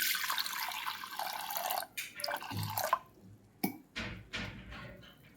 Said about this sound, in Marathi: याच्यामध्ये आपण पाणी घालूया आता